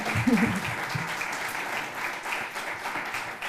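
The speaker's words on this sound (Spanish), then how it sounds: "Se ha sentado antes de que le diéramos el fortísimo aplauso." Steady, sustained applause from a crowd fills the whole stretch, even and moderately loud, with a voice briefly audible near the start.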